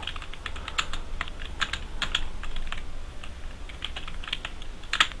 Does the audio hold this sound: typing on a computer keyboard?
yes